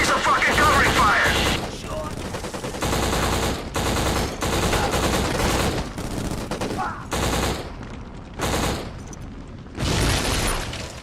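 Gunfire from the Xbox shooter game Black, loud rapid bursts of automatic weapon fire broken by short pauses, with booming impacts and game voices shouting between volleys.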